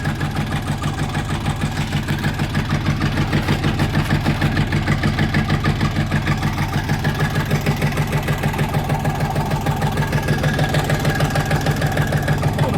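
A Kentavr 244 tractor engine with 160 hours on it fires up and settles into a steady, rhythmic idle, a loud, close diesel chug that continues alone with no talking.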